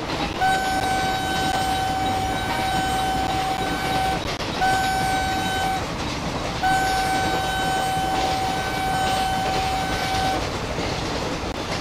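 In Train Simulator, a Vande Bharat Express running at about 100 km/h past Byculla railway station sounds its horn in three sustained blasts, the first long and the last two shorter, over a continuous rumble of wheels on track.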